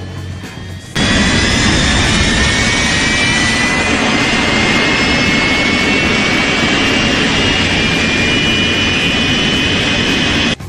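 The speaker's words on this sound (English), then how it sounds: "Check out our new jet-propelled snowblower. It will blow the snow and the paint right off of your vehicle." A jet-propelled snowblower roars continuously at full blast after a short quiet lead-in, a loud, steady jet-engine rush with a high whine on top, clearing snow off a vehicle.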